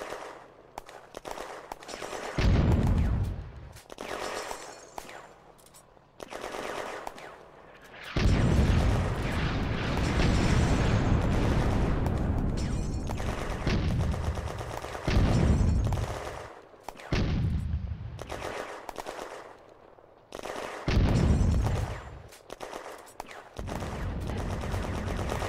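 Heavy guns fire in a World War II battle in a video game, with repeated loud booms and rolling blasts that sometimes overlap into sustained rumbling barrages over the whole stretch.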